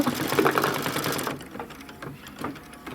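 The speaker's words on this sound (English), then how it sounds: "the last color that we're stitching off is the darker green" An embroidery machine stitches dark green thread into stems and leafy detail on a quilt block, a fast, steady mechanical whir that stops abruptly partway, leaving quieter scattered clicks and handling noises.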